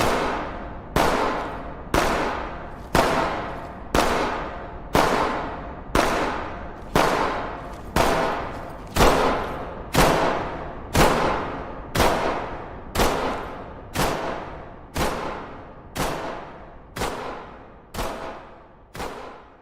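Gunfire sound effects fire as a steady series of about seventeen sharp, loud reports, one roughly every second. Each blast decays into a short echoing tail, with no voices between them.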